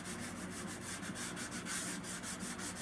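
Sandpaper is worked by hand along a spiral pipe stem, making quick, evenly spaced rasping strokes, close and steady.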